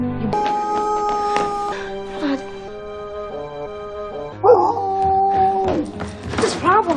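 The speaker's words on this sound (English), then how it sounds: "Stop howling, please." A dog howls in a TV spot for the comedy Hotel for Dogs, its long wavering cries rising and falling over a bed of music, with brief voices and other yips mixed in near the end.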